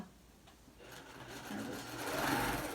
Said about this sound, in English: I'm just stitching near the edge, and that secures all my edges down